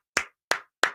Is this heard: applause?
yes